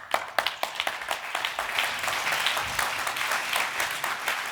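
An audience applauding to welcome a speaker at an RSA talk, starting with a few distinct claps that swell quickly into dense, sustained clapping, close and lively without speech.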